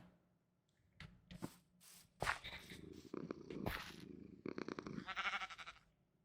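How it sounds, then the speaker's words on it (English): A cat named Lily purring in cozy Minecraft gameplay, a few short purr bursts close up, mixed with brief game sound effects and footstep-like clicks, with no talking. "You can hear her purring straight away."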